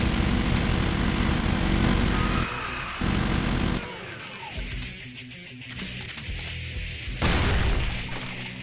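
Rapid automatic chain gun fire in Brutal Doom, a loud dense barrage with heavy booms that drops out briefly and comes back in bursts, mixed with game noise.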